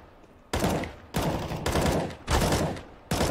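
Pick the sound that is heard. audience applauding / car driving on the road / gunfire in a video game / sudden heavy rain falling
gunfire in a video game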